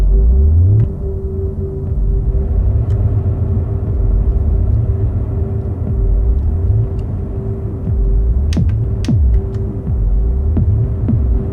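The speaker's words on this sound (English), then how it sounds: "This is just a resonating kick with a little bit of an envelope to make that kick sound." A synthesized kick drum, resonating and shaped by an envelope in a sequencer-free live electronic set, thumps in a loud repeating low pulse over a steady hum, with sharp clicks and sweeping tones cutting in toward the end.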